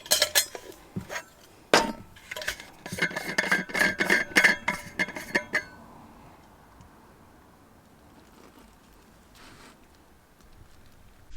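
Vegetables being sautéed in a small camping saucepan inside a car camper, with metal clinks and scrapes of utensil against pan in busy bursts for several seconds before fading to quiet hiss.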